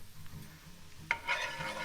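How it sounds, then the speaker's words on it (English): Two cloves of garlic hit a hot pan and begin to fry, a faint background hiss that jumps into a brighter, steady sizzle partway through, with no voices. "2 cloves of garlic. I'm not even gonna put this stuff in a bowl. We're just gonna go straight to the pan"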